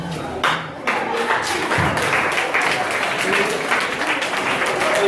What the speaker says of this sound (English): Everybody stand to your feet and clap for your neighbor.